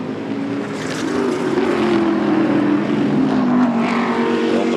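Bentley and BMW GT race cars roar past at Estoril, their engines blaring loud and continuous with shifting pitch as they accelerate through the circuit.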